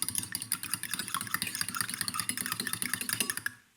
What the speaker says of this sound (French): nous prenons une fourchette pour bien battre les œufs en omelette